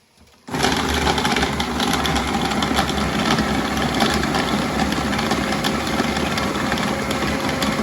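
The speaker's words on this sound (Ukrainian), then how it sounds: "також перекручу перчик на м'ясорубці і часничок" An electric meat grinder minces tomatoes, starting abruptly after a brief quiet moment and then running as a loud, steady mechanical whir with a rough, rattling texture.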